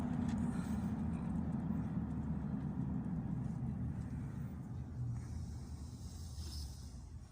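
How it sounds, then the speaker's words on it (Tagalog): A steady, dull road rumble and engine hum fill the cabin of a moving car, even and continuous throughout. "Dito ko sa sasakyan ngayon."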